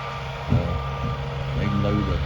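Reversing beeps from a truck being loaded at a chicken farm repeat steadily over a low engine rumble, with a voice talking over part of it.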